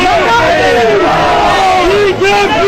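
A large crowd at a political rally in Kendrapara, Odisha, shouts and chants loudly and continuously, with wavering voices rising and falling close by, a dense roar filling the whole stretch.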